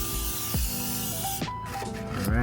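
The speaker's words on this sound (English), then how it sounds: "Alright, you just want to spray a nice coat of it on." Fluid Film rust-prevention undercoating sprays from an aerosol onto the underside of a Toyota Tacoma, with a tarp catching drips below. The spray comes as bursts of close hissing with brief pauses between them.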